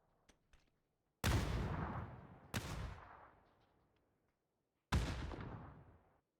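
Three loud, sharp gunshot blasts in the battle royale game PUBG, each cracking out suddenly and ringing off in a long reverberant tail, separated by brief quiet gaps with faint clicks before the first.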